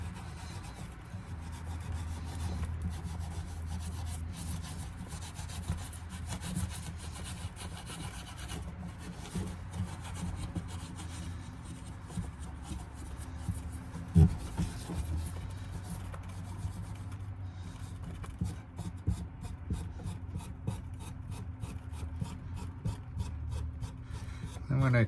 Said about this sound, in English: 4-0 steel wool. And I go over that little crown dressing edges.